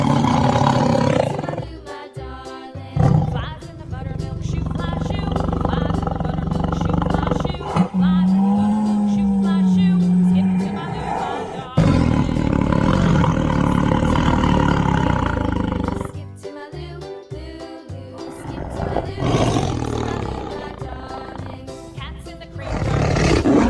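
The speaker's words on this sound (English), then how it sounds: "Tiger." A zoo tiger roars repeatedly in loud, deep, rasping bursts, with a few short pauses and a brief lower moan partway through, close and dominant throughout.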